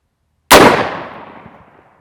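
A single loud, sharp gunshot cracks from near silence and fades over about a second and a half, fired into drywall during a comparison of 9mm, .223 and .22lr rounds.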